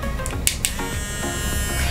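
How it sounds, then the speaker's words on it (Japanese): An electric toothbrush, a compact travel model from Boots in Britain, buzzes steadily and loudly up close, a continuous motor drone with a few brief brushing clicks and no speech. "歯ブラシは必ず電動歯ブラシ"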